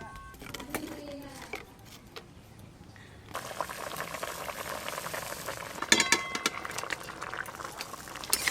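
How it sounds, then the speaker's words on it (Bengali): Hilsa fish curry broth with taro bubbles in a pot, a soft steady boil and sizzle that grows busier and louder halfway through, with light clinks near the end. "ঝোলটা ফুটে গেলে ইলিশ মাছগুলো দিয়ে দেব।"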